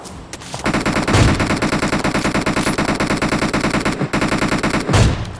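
Automatic weapon fire in the battle-royale game PUBG on the Erangel map: a dense, continuous burst of rapid shots lasting several seconds, with one brief gap before the firing resumes.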